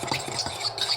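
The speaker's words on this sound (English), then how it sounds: "Here's a fork. And let's just whisk this all around." A fork whisks vegan batter for tofu fried chicken in a bowl, making quick, rhythmic close-up scraping and swishing strokes that repeat several times in about a second, with no speech.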